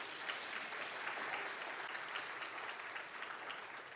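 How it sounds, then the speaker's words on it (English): Steady applause from a church congregation during a sermon, a sustained wash of many hands clapping at moderate distance with no talk over it. "Would you give these guys a round of applause as they make their way?"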